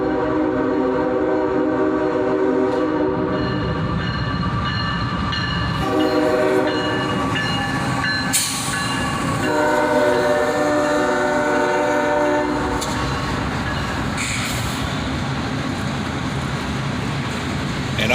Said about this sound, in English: 3 locomotives lead a fully loaded coal drag southbound.